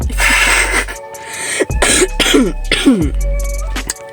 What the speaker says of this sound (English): Sorry, I've got a bit of cough again.